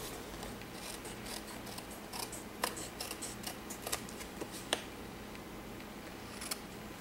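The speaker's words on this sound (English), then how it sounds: "I just take my paper snips and I just trim it" Paper snips trim card stock for a handmade Tardis card, a run of faint, close, irregular snipping clicks over a steady background hiss.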